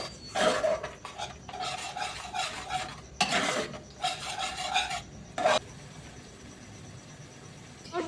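Spoon scraping and rubbing as sauce is worked into a spice masala in a wok for momos, coming in close bursts of rasping strokes with short pauses, no talk.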